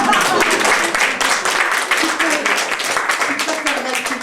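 An audience applauds in a continuous burst of dense clapping at close to moderate range, with voices talking over it.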